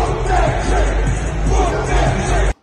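A Memphis crowd chants together in a dense, steady roar of voices that stays loud and fairly close until it cuts off abruptly at the end.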